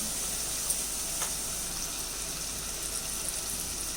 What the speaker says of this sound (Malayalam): ഈ ഉള്ളിയും തക്കാളിയും എല്ലാം കൂടെ നല്ലതുപോലെ നമുക്ക് വാട്ടിയെടുത്തുകൊണ്ട് വരാം.